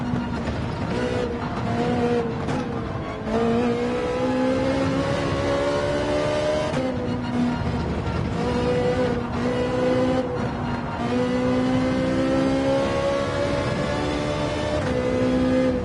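A BMW race car in Gran Turismo 7 drives a track, its engine note climbing and dropping through repeated gear changes and throttle lifts, loud and continuous throughout.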